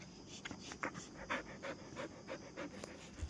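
A dog pants close by, giving a quick, regular rhythm of soft breathy puffs at moderate volume with no voices over it.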